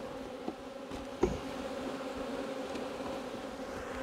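Honey bees hum around an open wooden hive during an autumn inspection, a dense steady buzz close by with a few brief knocks of handling, no voices.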